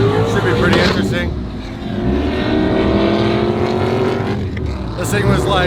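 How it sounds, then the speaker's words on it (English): A Toyota Supra runs a half-mile drag race on an airstrip, its engine a loud, sustained roar that swells and eases through the run, close by with wind buffeting over it. "Alex is gonna race the Supra"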